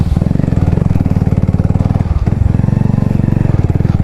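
A motorcycle with a new exhaust idles loudly and steadily nearby on a dirt road, its rapid throbbing pulse dipping briefly midway before resuming.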